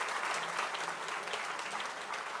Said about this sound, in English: His entire team of staff needs a big round of applause